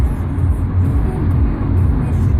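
A Fiat Egea engine pulling in fourth gear under acceleration, a steady, dense low rumble with a continuous hum heard from inside the car, with no talk.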